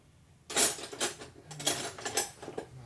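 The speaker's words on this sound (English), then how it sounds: "So the first thing we gotta do is break these bolts loose on the outside edge." A wrench breaking bolts loose on a 2001 Indian Scout 88ci big-bore S&S engine during a rebuild: a sharp metallic clack, then several quick ratcheting clicks and clinks, close and moderately loud, with no talking.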